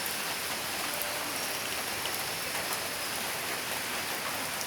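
Steady rain falls continuously after a typhoon, an even, dense hiss of drops on surfaces with no breaks, moderately loud and close, with no voices.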